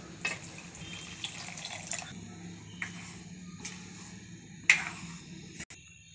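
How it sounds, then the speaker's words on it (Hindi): Water pours and splashes into thick cooking dal in several short bursts, with clinks and stirring sounds between them, fairly close. "दाल थोड़ा गाढ़ा है फ्रेंड्स, हम इसमें पानी डाल देंगे।"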